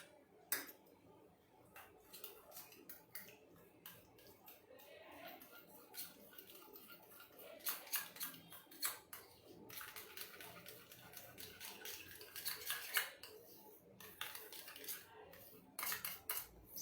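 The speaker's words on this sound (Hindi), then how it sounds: "अब इन सारी चीजों को हम मिक्स कर लेंगे।" Spoon clinking against a bowl or dish while lemon juice is mixed into ingredients for a homemade turmeric sauce, a quiet, irregular run of light taps and scrapes without speech.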